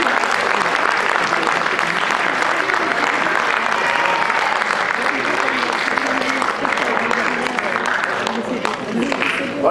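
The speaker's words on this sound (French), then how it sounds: "que l'on peut encore applaudir très très fort" A crowd at a football club awards evening applauds five volunteer leaders loudly and steadily, a full, sustained wall of clapping with murmured voices mixed in.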